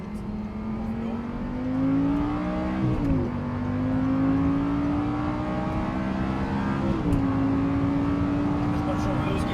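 An Audi R8 V10 R Tronic engine pulls hard up through the gears, its rising tone dipping briefly at each of two shift points before climbing again; a steady, close drone under faint background noise.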